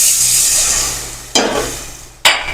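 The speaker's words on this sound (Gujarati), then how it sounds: "તો હવે આપણે તેમાં છાશ નાખી દઈશું જરૂર પ્રમાણે." Buttermilk poured into a hot pan of vegetable curry with chutney and spices, setting off a loud, close hiss and sizzle that fades, then two sharp bursts of fresh sizzling as more liquid hits the pan.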